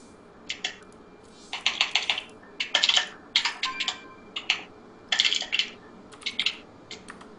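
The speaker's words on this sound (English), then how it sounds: "Noisy jackhammer keyboard, I do apologize, guys." Rapid, uneven clatter of a loud, noisy computer keyboard being typed on, bursts of keystrokes close up with short pauses between them and no talk.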